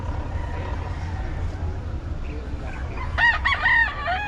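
A rooster crows at a poultry vendor's stall in Nueva Ecija. The crow comes once near the end, fairly close, over a steady low rumble of background noise.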